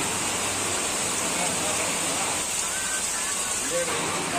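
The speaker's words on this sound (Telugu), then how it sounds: "రూమ్కి రీచ్ అయ్యేసరికి వర్షం భారీగా పడుతుంది" Steady, dense hiss of heavy rain pouring without pause, a continuous wash of noise that stays loud throughout.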